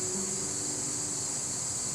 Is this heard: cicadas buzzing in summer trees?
yes